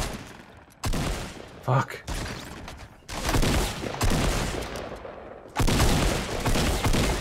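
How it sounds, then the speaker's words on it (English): Bursts of gunfire in the shooter game Fortnite ring out loud and repeated over several seconds, with a player's voice cutting in briefly between the shots. "I was shooting through the window"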